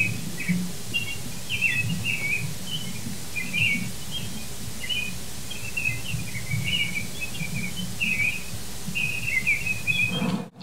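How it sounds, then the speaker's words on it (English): Scattered bird chirps and tweets repeat over a steady low background hum, birds calling on and off throughout in a quiet setting around 3 a.m. in Saskatchewan, Canada. "the birds continue to make a ruckus during the overnight hours"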